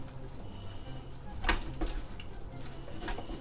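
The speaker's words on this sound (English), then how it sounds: "now let's get all the sauce in there. Now we mix up." Sauce being stirred into a pizza-roll mixture in a bowl, soft scraping and a few sharp clinks of utensil against the bowl over a low background hum, quiet and close.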